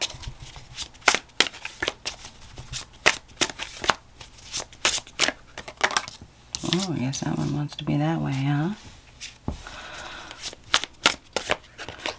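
Tarot cards are shuffled in quick, crisp riffling bursts and sharp slaps, with a short stretch of nearby speech partway through.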